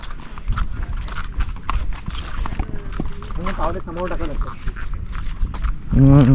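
A bull's heavy hooves plod slowly through wet, sucking mud in a Konkan rice paddy, with indistinct background voices and a low animal-like call near the end.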